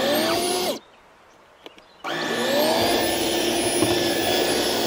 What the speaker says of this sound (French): Il fait tourner les brosses et il y a l'aspiration en plus.